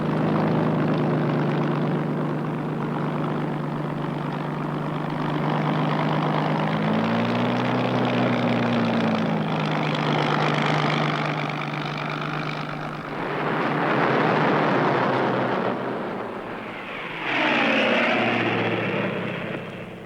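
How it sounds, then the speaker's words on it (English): Engines of several Coastal Command light bombers flying out together, a loud continuous propeller drone with shifting pitch and swells as aircraft pass, in archival wartime recording. "12 light bombers of Coastal Command go out unescorted to attack the 2 German ships in their home waters."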